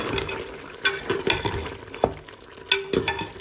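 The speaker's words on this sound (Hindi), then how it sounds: "अब हम भून लेंगे 10 मिनट के लिए।" White beef stirred and frying in a pot, with soft sizzling under scattered scraping knocks of a spoon against the metal, close and moderately loud.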